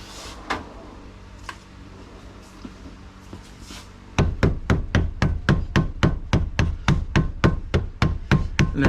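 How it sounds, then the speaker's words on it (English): A small rubber hammer taps on Willys Jeep T-90 transmission parts, first a few scattered knocks, then a rapid, even series of sharp, close strikes. "Probably got to get a little rubber hammer."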